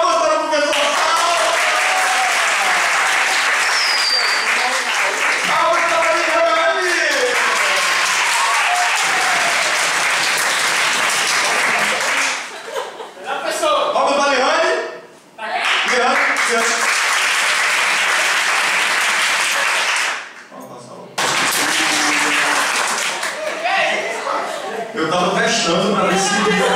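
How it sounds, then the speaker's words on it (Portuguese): An audience claps for a teacher at a talk about emotions in the job market, dense, loud applause going on for a long stretch, dipping briefly a few times, with voices cheering over it. "Palmas para o professor!"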